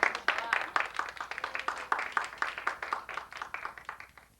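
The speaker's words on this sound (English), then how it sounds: "Nice round of applause for all of them." An audience claps steadily for spelling bee contestants at the 1991 Winthrop Middle School Spelling Bee, a moderately faint, even patter of many hands with voices mixed in.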